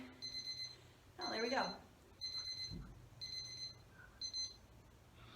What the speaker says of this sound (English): When the timer goes off, we're going to get a quick drink.